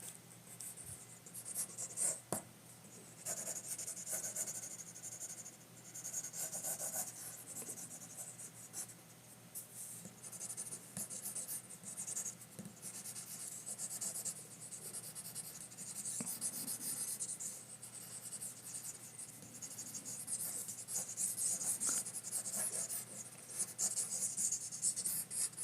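Pen or pencil drawing lines on paper while sketching a comic figure, a quiet, close, continuous scratching and rubbing with short strokes and brief pauses.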